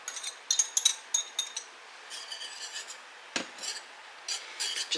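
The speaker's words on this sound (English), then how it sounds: "Just whisk it around, incorporate it into your gravy." A whisk scrapes around a pan of sausage gravy in quick, scratchy bursts with short pauses between strokes, close and moderately loud, with no talking.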